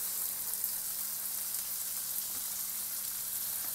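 Cumin seeds crackle in hot oil in an Indian-style pan just before chopped onions are added, a steady, close, even sizzle with faint pops and no voices.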